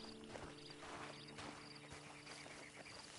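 Horse hooves clip-clop steadily in a PS4 video game, a continuous rhythmic walking gait heard alone at moderate level against a dense ambient game soundscape.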